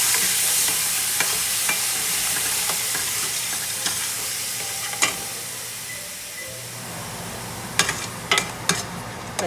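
Masala frying in a pan for a home-style fish curry, a steady close sizzle with scraping stirs throughout and a few sharp clinks of the spoon against the pan near the end.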